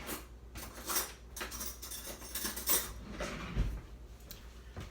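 A spoon clinks and scrapes in a bowl while paprika is mixed in, giving soft, irregular metallic taps and rattles up close.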